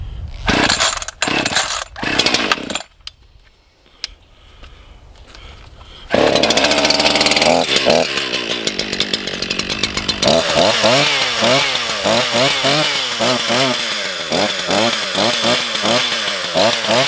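An ECHO CS-501P chainsaw, freshly tuned up, sputters through a few pull-start attempts, then catches and runs loud and close, its engine revving and settling into a rising and falling buzz.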